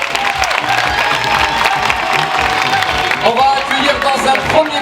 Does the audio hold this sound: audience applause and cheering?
yes